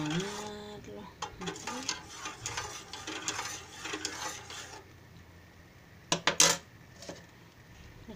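Flan mixture stirred in a glass mold, with clinking and scraping of a utensil against the glass, a steady run of small taps and swirls followed by a few sharper knocks near the end.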